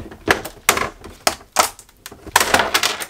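Glued Playmobil Egyptian pyramid being pried and peeled off its plastic display base, giving a series of sharp cracking snaps and clicks in irregular bursts, close and fairly loud, with no talking.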